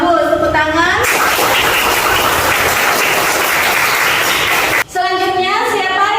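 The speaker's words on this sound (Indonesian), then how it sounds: "Bagus, tepuk tangan." A classroom full of students bursts into loud, dense applause for about four seconds, bracketed by a teacher's voice speaking before and after the clapping.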